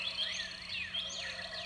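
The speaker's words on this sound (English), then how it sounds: "what you hear is largely based on this wonderful dawn recording from Victoria," Dawn recording from Victoria, Texas, playing faintly through a public art installation: sweeping bird calls over a steady insect drone.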